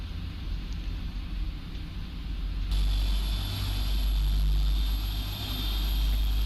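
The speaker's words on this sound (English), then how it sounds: "Looks like we have 4 good engine starts." Engines of a PMDG 747-8i airliner in the Prepar3D flight simulator spool up, a broad steady roar that grows louder and adds a high whine partway through, heard alone without talking.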